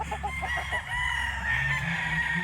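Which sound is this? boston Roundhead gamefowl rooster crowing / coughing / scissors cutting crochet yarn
boston Roundhead gamefowl rooster crowing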